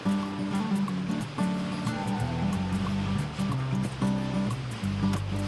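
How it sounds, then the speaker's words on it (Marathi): Water pours steadily into a pot of prawn curry, a continuous close splashing stream over a low background hum. "आता मी तो पॉटमधलं पाणी टाकेन याच्यामध्ये"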